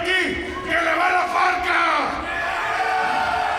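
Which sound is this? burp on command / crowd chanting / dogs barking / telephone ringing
crowd chanting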